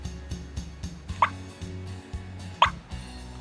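Two short, sharp turkey clucks from a Cass Creek electronic game call playing a recording, spaced about a second and a half apart over a low steady background hum.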